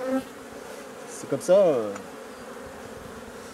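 Honey bees buzz loudly around an opened beehive as the keeper works inside it, a dense close swarm hum with one brief spoken remark over it.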